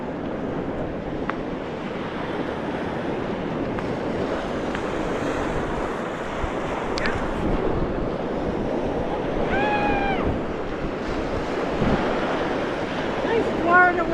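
Cold wind buffets the microphone over steady surf rolling onto Lido beach in Florida, a continuous broad wash with a few faint higher chirps breaking through.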